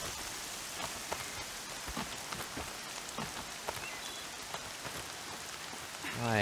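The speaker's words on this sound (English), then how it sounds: "Yeah, it's starting to rain." Steady rainfall in the video game Horizon Zero Dawn, a dense hiss of drops pattering on surfaces at moderate volume, with scattered louder drips and a swelling tone near the end.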